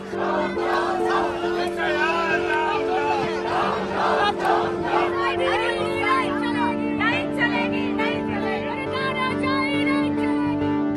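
Dense crowd of opposition protesters chants slogans loudly and continuously at a street rally against the Election Commission, a steady roar of many voices with rhythmic shouted phrases.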